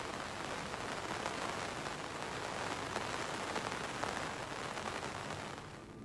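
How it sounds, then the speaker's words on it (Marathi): Heavy monsoon rain pours over a hilly tribal area near Malin and Asane, a dense and unbroken hiss of drops pounding surfaces that holds steady throughout with no voices. "सध्या आदिवासी डोंगर माथ्यावर पावसाचा जोर कायम आहे"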